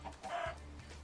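A chicken in the video game Minecraft gives a couple of quick, faint clucks in a brief, quiet moment, with no talking.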